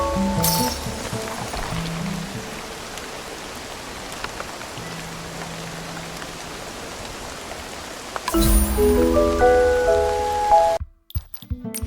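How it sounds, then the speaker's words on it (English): Rain plops steadily in a video game forest, a soft continuous patter under light music tones, swelling louder near the end before a brief dropout. "Plops of raindrops are so nice to fall asleep to."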